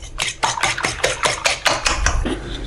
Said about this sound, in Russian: Все тоже взбиваем.